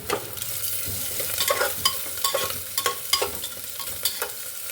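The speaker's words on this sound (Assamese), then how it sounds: "এইখিনি অকণ ভাজি ল'ম।" Ginger-garlic paste and onions fry in a pan, a continuous hiss of sizzling with frequent sharp scrapes and knocks of a spoon stirring close by.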